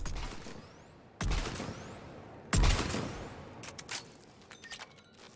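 Two heavy, sharp sniper rifle shots from Mass Effect 3 ring out a second or so apart, each with a long decaying tail, followed by a few fainter, quicker reports.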